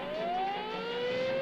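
An ambulance siren wails in a horror film, a loud, steady rising tone sustained without a break and heard alone.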